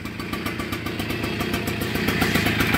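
A 1980 Kawasaki KV75 two-stroke engine runs on its own, its rapid buzzy exhaust pulses steady and close with a faint mechanical clatter.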